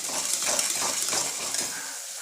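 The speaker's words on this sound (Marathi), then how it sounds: "हे बघा असं मस्त असं मी हलवून घेते" Kharda stirred with salt and turmeric in a pan, a short close burst of sizzling hiss with light scraping and clinking of the spoon.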